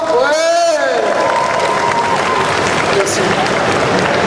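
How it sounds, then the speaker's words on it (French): A conference audience at Japan Expo bursts into applause and cheering for a speaker, a steady wash of clapping with a whoop at the start, under a voice on a microphone. "on applaudit Benoît, on fait un gros big up. Plus fort, ouais!"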